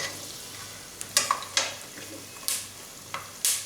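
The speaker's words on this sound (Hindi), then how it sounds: "उसी घी के अंदर अब मैं ये सूजी को रोस्ट करूँगी।" Semolina roasting in ghee in a pan while making gond halwa, with a steady soft sizzle broken by several sharp spoon scrapes and stirs against the pan, close up, with no talking.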